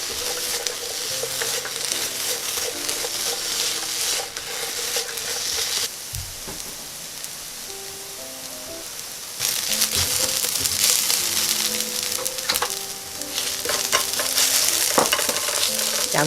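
Onions seasoned with salt and pepper sizzle and frying in a pan while being stirred, with scraping and tossing sounds that rise in loudness partway through; fairly close and loud, no voices.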